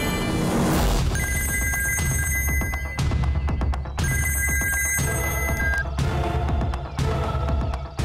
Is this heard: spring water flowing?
no